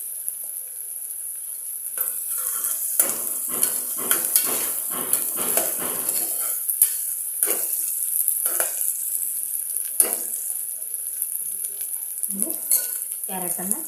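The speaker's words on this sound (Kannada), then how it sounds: "1 ನಿಮಿಷನಾದರೂ ತರಕಾರಿಗಳನ್ನೆಲ್ಲ ಫ್ರೈ ಚೆನ್ನಾಗಿ ಮಾಡ್ಕೋಬೇಕು." Chopped vegetables fry in hot oil in a pan, a continuous bright sizzle under repeated scraping stirs of a spoon against the metal, close and busy, with a few clinks of utensils.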